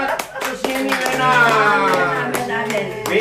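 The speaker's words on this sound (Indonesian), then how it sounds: "tepuk tangan buat Susieni Lena" Applause from a small audience at a home fellowship gathering, a short burst of hand clapping under a speaking voice that carries over it.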